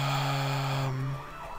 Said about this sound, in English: And there's a police car going past.